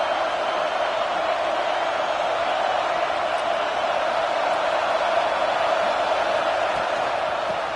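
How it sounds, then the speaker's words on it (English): A broad, steady roar of a large stadium crowd in a college football video game, Michigan vs. Texas, constant and fairly loud, with faint cheers rising within the din. "Listen to the crowd energy here in the early going."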